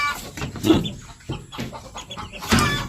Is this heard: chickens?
yes